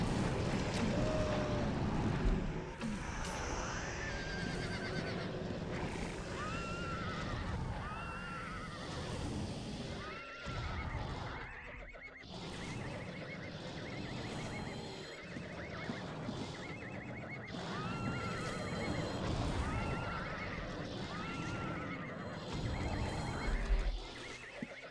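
Horse in the game Ultima Online neighing and whinnying repeatedly over about twenty-five seconds, with clip-clop hooves and a steady ambient bed underneath, the loud calls recurring every few seconds.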